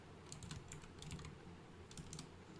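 Quick bursts of typing on a computer keyboard, clusters of light clicking keystrokes with short pauses between, quiet and close with no voices.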